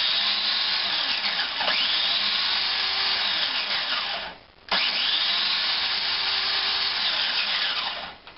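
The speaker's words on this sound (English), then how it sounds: "So I'm going to grind the elderflowers now." An electric grinder whirs loudly and steadily as it grinds dried elderflowers, with a brief pause midway before the motor spins up again and runs on.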